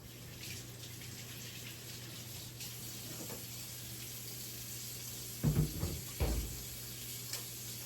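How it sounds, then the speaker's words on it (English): Tap water runs steadily into a kitchen sink while hands are washed, a soft continuous hiss with a few brief louder splashes and clatters near the end; no talking. "Let me wash my hands here."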